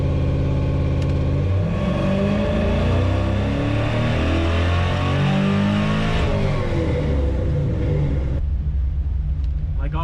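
A Ford F100 engine with Holley EFI runs at full throttle on a dyno, a loud sustained rev sweeping steadily up in pitch for about eight seconds before dropping off sharply at the end.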